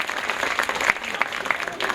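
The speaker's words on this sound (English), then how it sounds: "Give him a big round of applause." Crowd applause at a zoo bird show, many hands clapping in a lively, steady burst with a few sharp individual claps standing out near the listener.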